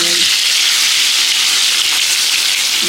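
Eggs fry in hot oil in a pan for a home-style egg curry, a loud, close, continuous crackling sizzle with no pauses.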